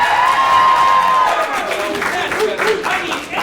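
An improv comedy audience cheers and claps at a class showcase, a dense crowd roar with whoops and clapping that stays loud throughout, while a voice speaks over it.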